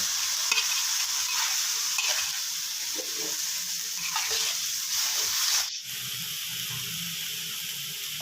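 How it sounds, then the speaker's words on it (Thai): Minced pork and squid stir-fried with basil and dried chilli in a hot pan, a steady close sizzle with repeated scraping stirs throughout and one sharp clack near the end. "จากนั้นก็ผัดคลุกเคล้าไปเรื่อย ๆนะครับ"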